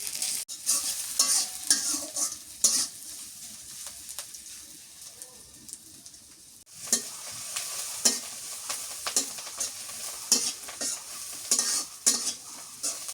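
Rita fish frying in an open pan in a village kitchen, a soft continuous sizzle broken by repeated sharp scrapes and clacks of a spatula stirring, close and fairly loud, with no talking.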